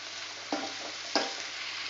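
Chopped tomatoes sauté with onions and salt in a pan for a brinjal thokku gravy, making a soft, steady sizzle broken by two sharp spoon clicks against the pan.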